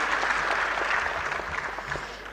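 Applause for a lecturer at a university maritime studies lecture, dense and sustained clapping from a hall audience that tapers slightly toward the end.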